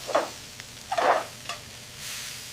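Vietnamese pancakes sizzle in hot pans, crisping on the outside, with a few short bursts of frying hiss rising and fading close by.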